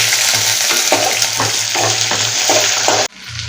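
Onion sizzles in hot oil with cumin seeds and chana dal, a loud, steady frying crackle with bursts of stirring before the sound cuts off near the end.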